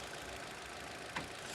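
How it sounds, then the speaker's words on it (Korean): A Chevrolet Cruze 1.6 with about 114,000 km idles close by, giving a steady, smooth mid-low engine hum with one brief louder blip near the end. "엔진 소리 이게 가까이서 한번 들어보시면 굉장히 부드럽습니다."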